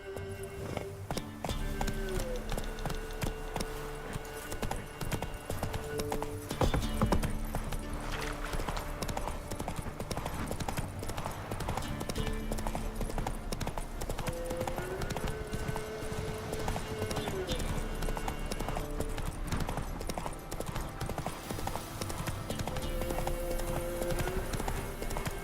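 Hooves of the horse Roach clip-clop in a steady trotting rhythm in a video game, close and continuous beneath a soft musical score, with a voice speaking occasionally.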